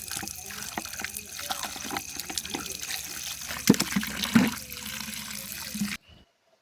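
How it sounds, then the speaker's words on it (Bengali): Peeled mangoes are rinsed by hand in water in a village kitchen, giving close splashing, trickling and sloshing sounds that stop abruptly at the end. "এখন এগুলিকে আমি ভালো করে ধুয়ে নেব।"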